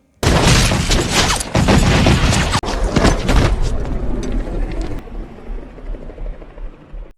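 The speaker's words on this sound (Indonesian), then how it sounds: "pasukan polisi yang sudah menodongkan senjata, mereka tak mau ambil resiko dan segera memberondongkan peluru tepat ke badannya" Police in a film scene fire a rapid barrage of gunshots, loud and dense for about five seconds before easing into quieter scattered noise.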